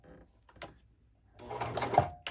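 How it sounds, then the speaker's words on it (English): Sewing machine sewing a couple of straight stitches on an apron neck strap, short mechanical bursts with a brief run near the end separated by quiet gaps. "Do a couple straight stitches"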